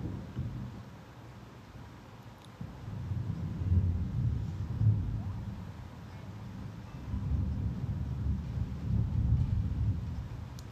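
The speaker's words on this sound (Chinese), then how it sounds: "我雷声这么大" Thunder rumbling in the video game Sausage Party, a low, rolling boom that swells and fades in long waves over a steady noisy background, with no talk.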